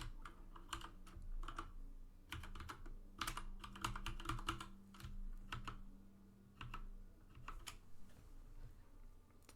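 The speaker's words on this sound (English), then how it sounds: "we're going to be typing in our password" Password being entered on a computer keyboard: a steady run of close, crisp key clicks in uneven bursts, with short pauses between groups of strokes and no talking.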